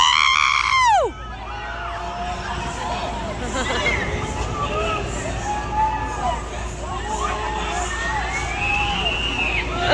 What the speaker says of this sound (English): Is that John screaming